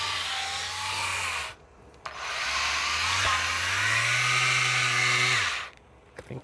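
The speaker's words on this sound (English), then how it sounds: "I should sand this before I put it in the van" A power sander works on a wooden board for a box van build, its steady rough rasping broken by two short pauses, loud and close with no talking.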